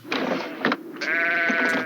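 Sheep bleating inside a truckload of sheep in a film, a few close, loud bleats in quick succession with a sustained wavering cry at the end, no talk.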